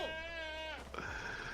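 A sheep in the video game Enshrouded gives a nasal, wavering bleat, then a second shorter bleat follows, both close and clear with no talking over them.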